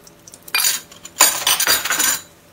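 Mustard seeds and urad dal tipped into hot ghee in a pan, with two bursts of rattling, crackling splatter, close and fairly loud, against a faint background hum.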